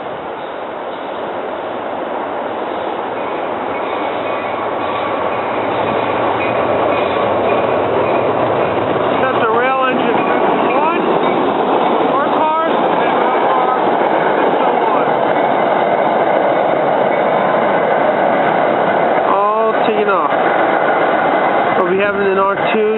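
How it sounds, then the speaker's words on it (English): R5 work train rolling into Jenkintown station, a steady loud rumble of wheels on rail with rhythmic clatter and brief squeals, with people talking over it. "Here into Jenkintown, there's the R5 work train coming in."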